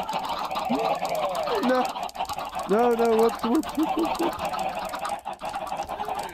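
Chickens in a video game clucking and squawking in a few rising, wavering bursts close by, with a person speaking briefly alongside.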